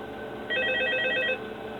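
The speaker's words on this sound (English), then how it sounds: "we're just gonna hear a phone call and I'm gonna end it" A phone rings in the Five Nights at Freddy's 2 video game, a single short burst of electronic trilling in the middle of a quiet, steady background hum, with no speech.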